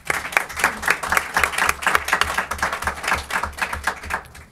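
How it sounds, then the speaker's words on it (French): A council chamber audience applauds a newly appointed district representative at a municipal council meeting, a dense, steady burst of many hands clapping throughout with no talking. "Je pense qu'on peut l'applaudir."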